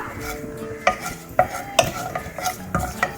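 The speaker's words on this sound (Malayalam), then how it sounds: "ഇനി ഇതിലോട്ട് കുറച്ച് പെരിഞ്ചീരകവും കുരുമുളക് ചതച്ചതും കൂടെ ഒന്ന് ചേർത്ത് കൊടുക്കാം ഇത് ജസ്റ്റ് ഒന്ന് ഇളക്കി കൊടുക്കാം" Fennel seeds and crushed pepper stirred into a Kerala-style chicken liver fry in a pan, sharp spoon clinks and scrapes against the metal at irregular intervals over a light sizzle, close and clear with no talking.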